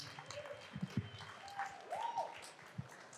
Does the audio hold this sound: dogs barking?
no